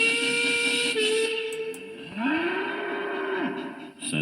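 A loud, drawn-out bull's moo rises and holds for over a second, following a long steady whistle-like tone, with no talking.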